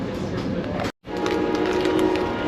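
An Amtrak Pacific Surfliner train rumbles at a station stop between Anaheim and San Diego, a steady loud mechanical hum and rolling drone broken by a brief dropout, with no voices.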